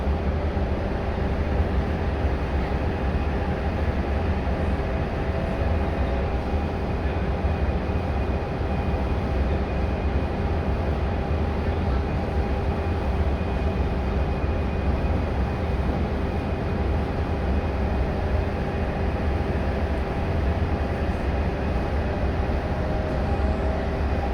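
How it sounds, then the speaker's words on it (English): A NSW TrainLink Oscar passenger train rolls steadily along the rails toward Booragul with a continuous low rumble and a faint whine, and no one speaking. "this train is snaking its way towards Booragul"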